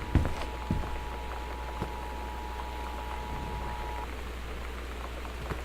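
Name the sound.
rain and wind outside the house in video game Gone Home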